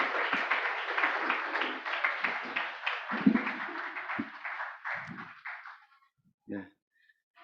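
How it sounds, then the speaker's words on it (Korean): A church congregation applauds together indoors, a dense burst of clapping that rises, holds for several seconds and fades out, followed by a brief thump. "박수를 쳐주시기 바랍니다"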